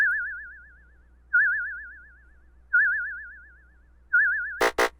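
PO-32 pocket drum machine in receive mode, waiting for input: a quiet, steady warbling tone repeating in four evenly spaced bursts, then two short sharp clicks at the end.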